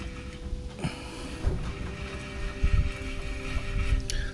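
A worn front wheel hub bearing on a 2013-2017 Cadillac XTS, spun by hand, gives a rough, uneven grinding rumble close to the microphone, with a few louder scraping surges and no speech.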